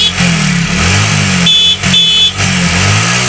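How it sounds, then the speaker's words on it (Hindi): A motorcycle idles loudly and steadily nearby while its electric horn sounds in two short honks over the engine drone, during a bike horn and battery repair. "गाड़ी स्टार्ट करके देखते हैं हॉर्न बज रहा है या नहीं बज रहा है"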